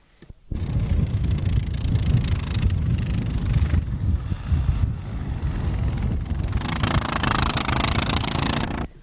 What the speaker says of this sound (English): The bike sounds a bit rough.